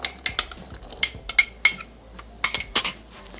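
Chickpeas drop into a Thermomix TM6 mixing bowl in a quick scatter of hard clinks and rattles, several close, sharp bursts against the metal with short pauses between.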